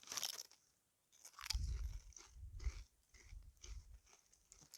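Tyrrell's sweet chilli and red pepper crisps being eaten outdoors on a Peak District walk, with a rustle of the bag followed by close, loud crunching and chewing in irregular bursts.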